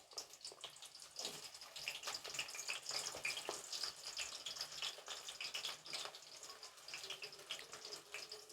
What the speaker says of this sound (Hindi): अब ऑयल गर्म हो चुका है तो हम प्याज डालेंगे।